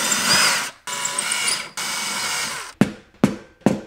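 A screwdriver driving a screw through a plastic EV charger cable holder in a garage, heard as three sustained buzzy runs followed by three short sharp bursts, close and fairly loud with no talk.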